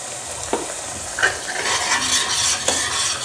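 Masala with milk being roasted and stirred in a pan, a steady loud sizzle with a few sharp spoon scrapes against the metal spaced through it.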